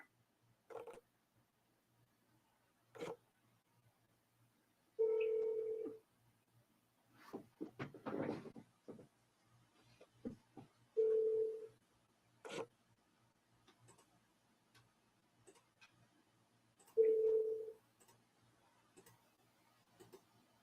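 Outgoing phone call ringing through: faint clicks and ticks, then a few separate mid-pitched ring tones spaced several seconds apart over a quiet line, with brief sharp noises in between.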